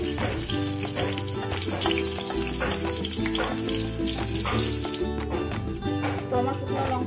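Dried red chillies fry in hot oil in a wok, giving a continuous loud sizzle, with a steady tonal hum running beneath it.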